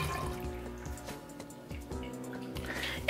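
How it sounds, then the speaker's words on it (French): A baking soda shampoo mixture is poured into an empty bottle, giving close, quiet gurgling and trickling liquid with small glugs and drips over a few seconds. "je vais remplir ma bouteille du mélange pour que ce soit beaucoup plus facile après à utiliser à la douche"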